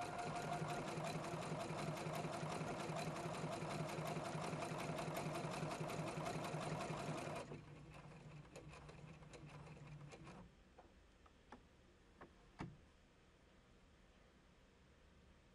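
A Husqvarna Viking Platinum Plus sewing machine stitches a row of decorative hearts with a steady, close mechanical whir, then slows to a quieter hum and stops, followed by a few faint clicks and taps.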